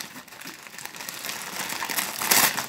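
Small Christmas presents being unwrapped, with close, loud, continuous crinkling and crumpling of wrapping paper that swells to a busier rustle toward the end.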